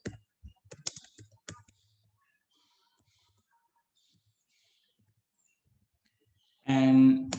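A few sharp key clicks sound close by on a computer keyboard in an otherwise quiet room, then silence follows. A voice comes in at the end.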